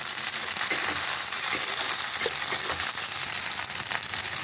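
Capsicum and tomato pieces fry in a pan for chicken keema, giving a close, steady, crackling sizzle with small pops and spits throughout. No one speaks.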